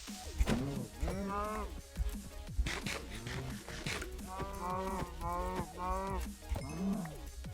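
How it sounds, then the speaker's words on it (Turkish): Cows in the Minecraft video game low repeatedly, with overlapping moos through a dense, busy stretch of game noise and possible faint voices beneath. "İnek."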